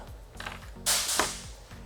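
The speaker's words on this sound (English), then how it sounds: "I'm gonna use needle nose pliers to pull these screws out" Small screws are pulled free with needle nose pliers while fitting a brake light modulator on a 2006+ Suzuki Boulevard M109R, giving a few faint metallic clicks and scrapes close by.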